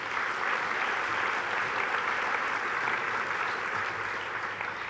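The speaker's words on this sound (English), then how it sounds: "there's a big cheer coming from Esperance, I can hear it." An audience at an education awards presentation claps and cheers in a dense, sustained wash of applause that holds steady and fades slightly at the end.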